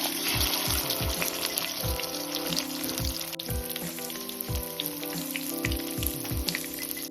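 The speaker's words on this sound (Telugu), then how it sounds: "కడాయి పెట్టి ఆయిల్ వేసి లెగ్ పీసుల్ని వేసేసుకోవాలి. సిమ్లో పెట్టి నెమ్మదిగా ఫ్రై చేసేసుకోవాలి." Chicken leg pieces frying slowly in oil in a kadai on low flame, a steady close sizzle with bubbling crackles throughout and no talking.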